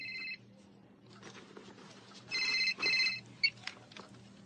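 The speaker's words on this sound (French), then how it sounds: "C'est le téléphone de qui?" A telephone rings indoors in short electronic bursts, twice in quick succession, with a quieter blip after them over low background hum, and no one speaks.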